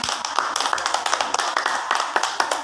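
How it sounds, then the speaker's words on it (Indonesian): Classmates clap during a peer group counseling session: a small group's sharp, separate claps that stay loud and close and keep a loose, uneven rhythm. "Beri tepuk tangan"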